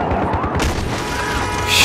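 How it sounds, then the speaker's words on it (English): Explosions and gunfire in the video game Modern Warfare, with a loud, rumbling blast and crashing debris that swell at the end, heavy and close. "All I saw is just explosions and death."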